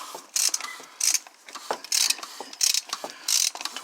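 A ratchet wrench with a 27 mm 12-point socket clicks in quick bursts while loosening a fastener during an engine oil change, about five short loud ratcheting runs separated by brief pauses, close up with no talk.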